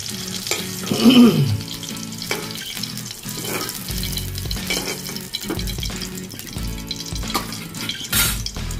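Country eggs fry in hot oil in a kadai, crackling and sizzling steadily, with a few utensil knocks and stirs over the continuous hiss.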